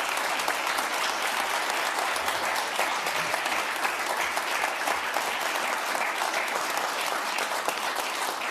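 An audience at a city council meeting gives a sustained round of applause for telecommunicators, steady dense clapping from many hands that fills the room evenly from start to finish with no talk over it.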